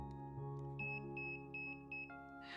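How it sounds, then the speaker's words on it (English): A SYMBYX PDCare laser device beeps as it switches on: a row of short, even, high electronic beeps close by over a steady hum, ending in a brief hiss. "The device will beep and the band will flash green"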